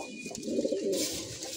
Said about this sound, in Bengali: আর একটি খাকি কবুতর আছে, একই লাইনের এই খাকি কবুতরটি